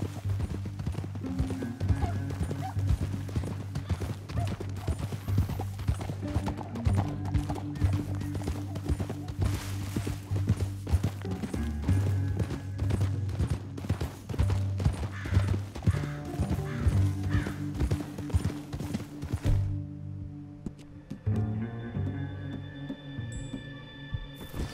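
Horse hooves clip-clop steadily on the ground in Red Dead Redemption 2, a continuous trotting rhythm over a low musical drone, cutting off abruptly near the end to quieter tones.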